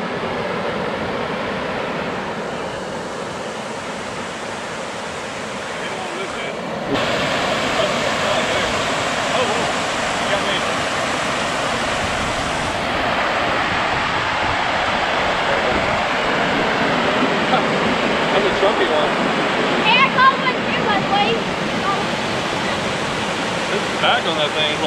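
Flowing creek water rushing steadily nearby, a constant broadband wash that swells slightly partway through.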